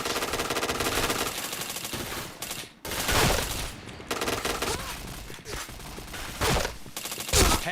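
Dense automatic gunfire roars from the shooter game Point Blank in long bursts with brief gaps, loud and continuous, while a voice talks now and then beneath it.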